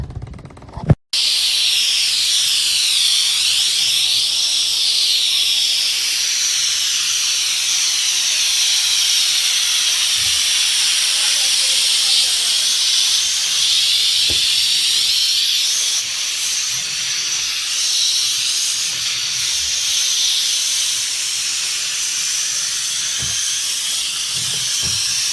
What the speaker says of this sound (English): I decided to give my things a steam, and you can hear that noise.